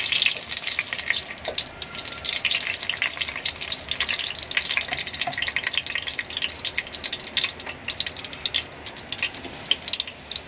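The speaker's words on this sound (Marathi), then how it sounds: "तेल गरम झालं ना याच्यामध्ये असे 3 तेजपत्ता टाकायचे" Three bay leaves hit hot oil in a kadhai and sizzle and crackle steadily, a close, busy frying hiss with small pops running throughout and no voices.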